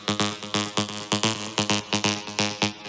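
Arpeggiated synth run through Filter Freak processing in an electronic track, its low end removed: quick, evenly pulsing plucked notes with a shifting, moving filtered tone, steady and alone with no voices.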